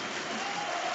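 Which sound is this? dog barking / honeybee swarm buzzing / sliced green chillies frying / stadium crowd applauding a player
stadium crowd applauding a player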